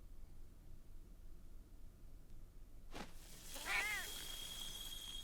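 A cat meowing in a Monster Hunter game trailer, one clear drawn-out meow rising and falling after a sharp sweep, heard faintly over a low hiss of background noise.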